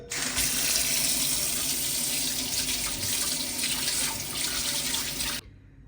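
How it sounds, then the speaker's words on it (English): A kitchen sink faucet runs steadily as forks are washed under the stream, a broad continuous water rush with faint clinks, cutting off abruptly near the end. "let's wash them in the sink."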